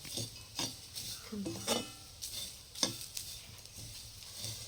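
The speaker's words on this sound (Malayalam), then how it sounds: "തേങ്ങ വറുക്കുക" Grated coconut is stirred and scraped around a hot pan, with soft sizzling and repeated utensil scrapes at close range.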